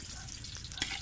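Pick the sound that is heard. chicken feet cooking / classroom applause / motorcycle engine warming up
chicken feet cooking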